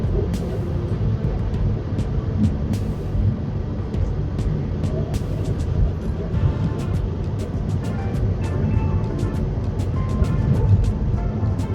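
Steady road noise from a car driving through Lagos traffic in the Ologolo area, a continuous engine and tyre rumble with faint clicks and passing-vehicle sounds.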